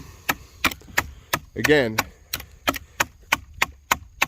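An Artisan Cutlery Tradition knife in bronze-finished D2 steel is hammered hard into wood, giving a steady series of loud, sharp chopping cracks about three per second, with one short spoken word partway through.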